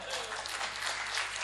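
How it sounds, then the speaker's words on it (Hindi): An audience at a mushaira and kavi sammelan poetry recital in Agra breaking into applause, a dense, even burst of clapping from a crowd, moderately distant, filling the whole moment. "तालियों का विस्फोट करना"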